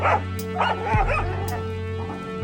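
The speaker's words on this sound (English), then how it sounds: "Their sharp barks shattered the silence." Hunting dogs bark and yip close by, a few sharp bursts with a whimpering pitch slide between them.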